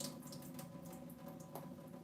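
Water drains from freshly blanched green vegetables in a kitchen, a short, steady splashing trickle like a running tap, close by and without speech.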